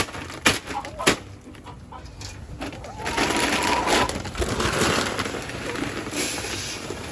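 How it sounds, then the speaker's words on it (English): Chicken feed poured into a feeder for backyard chickens, a few sharp knocks followed by a sustained rushing, rattling pour of grain, with occasional clucking in the background. "Filling up the chicken feed for the chickens."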